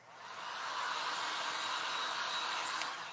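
A hair dryer blowing hot air onto wet paint and gesso on a craft piece, a steady close whooshing whir that rises in and holds evenly for a few seconds.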